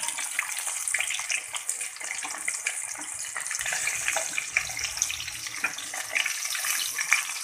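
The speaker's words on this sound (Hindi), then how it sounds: "ये फ़िश को फ्राई किया जा रहा है।" Rohu fish fry in hot oil in a kadai, giving a steady dense sizzle and crackle throughout with faint popping.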